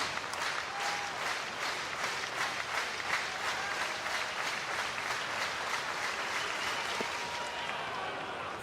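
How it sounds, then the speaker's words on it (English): A college baseball crowd claps rhythmically in unison for Texas, a steady pulsing beat of many hands repeating about twice a second, with a broadcaster's voice faintly over it. "Rhythmic applause now for Texas"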